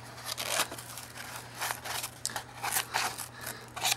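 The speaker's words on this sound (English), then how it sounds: "I'll punch a hole through it" A hole is punched through a homemade paper flute with a pointed tool, giving repeated soft crunching, snipping and crinkling bursts in an irregular rhythm, close and fairly quiet over a low steady hum.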